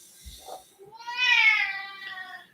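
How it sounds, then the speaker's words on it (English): An old cat gives a single drawn-out, rising-and-falling meow, close and fairly loud indoors, preceded by a faint soft thump and brief rustle. "She's a cranky old cat."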